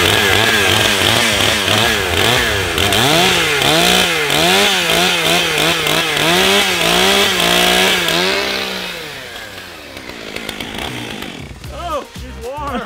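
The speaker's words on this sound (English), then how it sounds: "I'm gonna warm up this saw" A chainsaw warms up with repeated revving throttle bursts that rise and fall in pitch, then drops toward idle and sputters near the end, loud and close.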